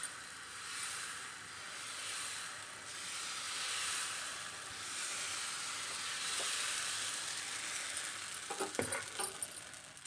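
Dosa batter sizzles on a hot pan, a soft continuous frying hiss rising and falling gently, with a few clinks and scrapes of a utensil toward the end.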